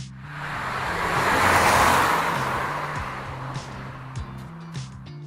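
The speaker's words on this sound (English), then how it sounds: "find a sound effect, so maybe a car driving by" A car drives by as a stock sound effect, its broad whooshing swell building to a peak and then fading away, with a low steady tone and faint clicks underneath and no talk.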